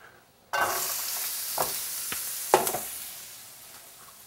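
Onions dropped into a hot pan with salt and pepper, a sudden sizzle that settles into steady frying with a few spatula scrapes and taps, close and gradually fading, with no talking.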